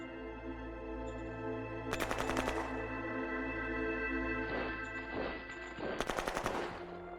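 Bursts of automatic gunfire from the strategy video game Shadow Empire, two rapid rattling volleys over a steady low electronic drone and game music, with a few softer shots in between.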